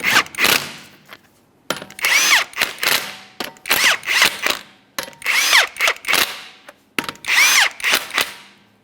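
A power tool runs on the 21mm lug nuts of a Toyota Sienna wheel in five loud, close bursts of whirring and rattling, with brief pauses between them.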